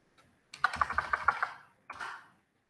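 An input value is typed on a computer keyboard: a brisk run of about eight sharp, close key clicks, then a brief gap and a final short clattering press, in an otherwise quiet room.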